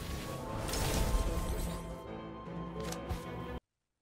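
A Sectum Sempra spell cast in the Harry Potter Magic Awakened video game: a loud burst of slashing, crashing magic effects with a sharp crack near the end, cutting off abruptly into silence.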